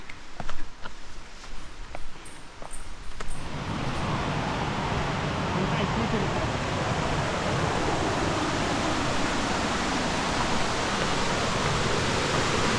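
Steady broadband rush of flowing water, like a nearby waterfall, rising to fill the scene after a few quieter seconds with faint clicks.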